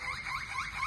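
A pet bird mimics a car alarm, whistling a quick repeating rising and falling siren-like warble several times in a row, faint and close, with no talk over it.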